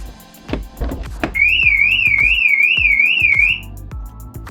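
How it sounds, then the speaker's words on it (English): A Porsche 911 car alarm wails with a warbling, rising-and-falling electronic tone for a couple of seconds, alongside a few knocks and clunks as a door opens. "if they do that and open the door, the alarm will go off,"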